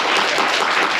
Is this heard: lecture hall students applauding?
yes